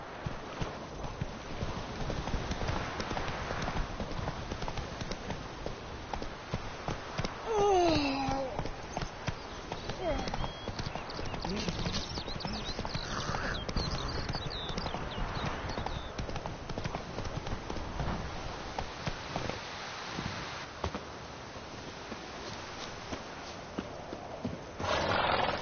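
Roach the horse galloping in The Witcher 3, a steady drumming of hoofbeats running through the whole stretch at moderate level, with a brief whinny partway along.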